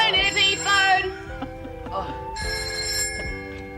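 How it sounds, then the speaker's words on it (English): A telephone rings repeatedly with a bright electronic bell in a home at a toast among friends, heard over overlapping voices and crowd chatter. "Cheers, phone, Eddie, phone."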